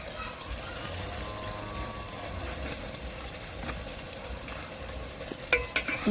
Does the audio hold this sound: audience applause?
no